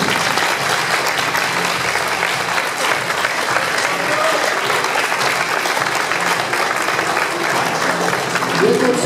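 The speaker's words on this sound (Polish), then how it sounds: "Wielkie brawa" Big round of audience applause at a school spring-day performance, loud dense clapping mixed with crowd noise that stays steady throughout, with some voices cheering underneath.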